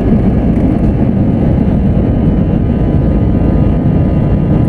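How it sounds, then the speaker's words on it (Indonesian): Loud, constant engine roar fills a Batik Air cabin during takeoff from Bangkok Don Mueang, heard from a seat close to the engine, a heavy low-pitched drone that stays even throughout with no voices above it. "posisi seat kami itu berada dekat sekali dengan engine, jadi suaranya itu ke kabin tempat kami berada cukup kencang"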